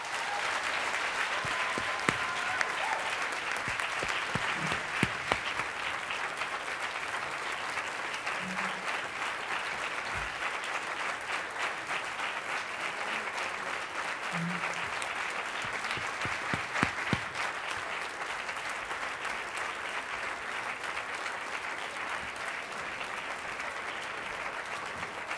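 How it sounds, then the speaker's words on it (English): Sustained audience applause at the close of a plenary session at a student festival conference, steady and full throughout, with a few sharper claps standing out and no talking. "Let's give them a real applause."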